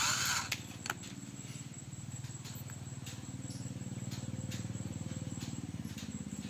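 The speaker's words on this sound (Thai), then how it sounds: "เอาเข้าสว่านแล้วก็ปั่นเลยครับ" An electric drill spins steadily to twist wire for a craft butterfly, giving a continuous close buzzing whir after a brief start-up clatter.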